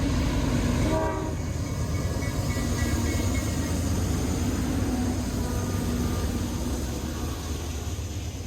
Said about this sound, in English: What's the coal train doing in front of the excursion?